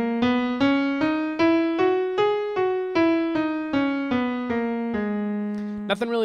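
Natural minor scale played note by note on a sustained keyboard-like instrument, about a dozen evenly spaced clear tones stepping up and back down, close and alone.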